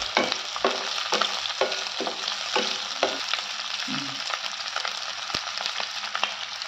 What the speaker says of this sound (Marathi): लगेच आता कॅप्सिकमचे तुकडे टाकते डाईस त्याचे,